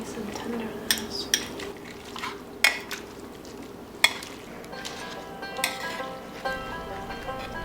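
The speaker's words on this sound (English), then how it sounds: "So let's shred this up and give it a good mix." Slow-cooked sriracha BBQ pulled pork being shredded and mixed, with soft wet stirring under a run of sharp utensil clicks and scrapes against the pot, close and fairly quiet.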